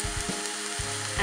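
Vegetables for a broccoli soup sweat in a pot with a soft, steady sizzle and a few clunks of stirring, close and fairly quiet.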